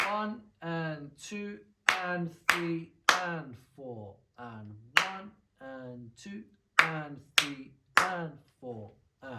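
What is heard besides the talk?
hands clapping an 8th note rock beat pattern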